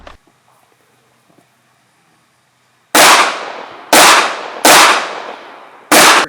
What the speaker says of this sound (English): First shot on the spinner.